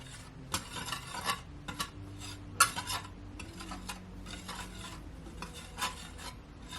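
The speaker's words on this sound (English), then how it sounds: "I'm just gonna mix it all in so everything all combined" Garlic powder and other seasonings mixed together in a bowl, heard as repeated scraping, rasping stirs with clinks of utensil against the bowl, close and moderately loud, with no talking.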